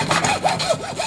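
A saw cuts through a freshly frozen product in quick back-and-forth strokes, a rasping, rhythmic sawing with several short passes within about a second, close and clear with no talking.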